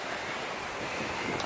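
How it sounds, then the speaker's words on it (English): Steady roar of wind buffeting a microphone while riding a bicycle outdoors on a blustery day, broadband and continuous throughout with no other clear sounds. "Blooming windy."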